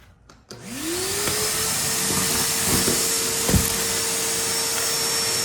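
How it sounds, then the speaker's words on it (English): Shop vac switched on with an attachment, vacuuming construction debris such as screws, nails and chunks of joint compound; a loud steady close roar starts after a brief click, with a rising whine and occasional rattles of debris being sucked up. "Let me show you why shop vac every time wins."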